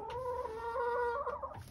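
A chicken makes a drawn-out clucking call up close, with faint rustling in the background.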